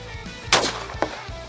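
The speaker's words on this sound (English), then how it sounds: "Let me shoot one more shot head to head." A single loud shotgun blast from a Benelli Super Black Eagle 3 or Browning Maxus 2 semi-auto firing target loads, a sharp crack with a short echoing tail, then a fainter thump about half a second later.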